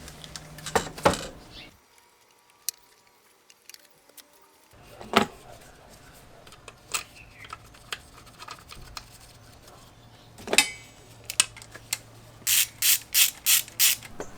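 Ratchet wrench clicking as valve cover bolts are tightened in sequence after a new gasket goes on, several close bursts of rapid pawl clicks separated by pauses, with a few clunks of tools and parts.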